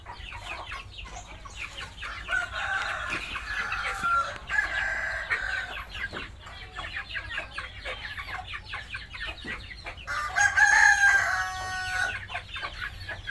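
Black game-type chickens and red chickens kept for sale cluck and call, with a rooster crowing loudly several times near the end over a steady busy farmyard background.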